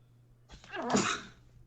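A single quiet sneeze, brief and close, against a faint background hum.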